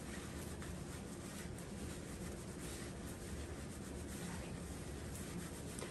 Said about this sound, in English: we're gonna work this into a really good lather